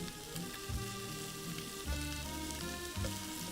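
Shrimp sizzling in a hot pan, a continuous quiet frying crackle with a few soft stirring bumps, close and faint with no voices.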